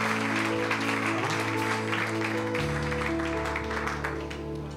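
Church congregation applauding for a member, a continuous wash of clapping throughout, moderately distant and steady, faintly underlaid with tonal music or hum.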